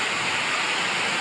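Fresh river water at a mountain bathing spot rushing in a constant, even hiss of flow, close and steady with no voices over it.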